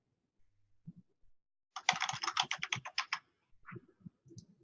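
A burst of rapid keystrokes on a computer keyboard, a quick run of clear clicks lasting about a second and a half, with a few soft taps and small noises before and after in an otherwise quiet room.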